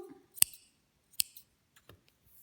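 Scissors snip through crochet yarn in a quiet indoor craft setting, giving two sharp close cuts followed by a few softer clicks.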